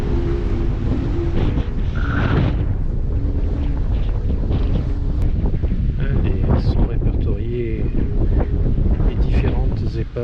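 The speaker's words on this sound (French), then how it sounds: "Le vent s'est bien levé, on est à plus de 15 nœuds, voire 20-25." Strong 15 to 25 knot wind buffets the microphone on a boat sailing near Porquerolles and Port-Cros, a loud constant rush with water noise and faint voices underneath.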